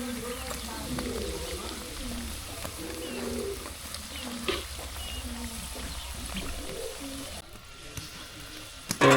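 Fritters deep-fry in beef fat in a wok with a steady, fairly close sizzle, under a low background hum and a faint voice.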